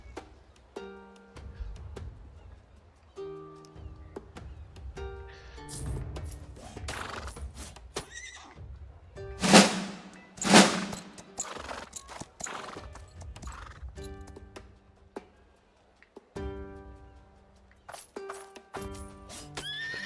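Horses neigh and whinny in a Roman-themed strategy game, several high whinnies over clip-clopping hooves and short game sound effects, with two loud sharp cries in the middle and no talking.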